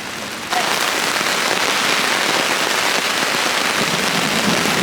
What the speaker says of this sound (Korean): 저 조명 때문에 비 떨어지는 게 너무 잘 보여.